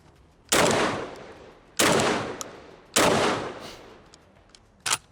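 Three loud shotgun blasts from an Aksa Crossfire S4 Extreme Pro at an outdoor live-fire test, spaced about a second apart with a fourth shot at the end, each followed by a short decaying echo.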